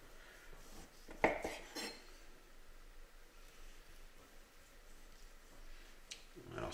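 A knife cuts thin slices of salt-baked beef fillet on a board, with one sharp knock of blade and plate, then quiet scraping and handling over soft room noise.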